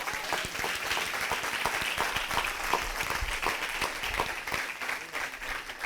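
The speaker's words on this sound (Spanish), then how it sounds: "¿Alguien le da un aplauso a Dios por eso?" A church congregation claps steadily and loudly for several seconds, dense continuous applause filling the room with a few faint voices mixed in.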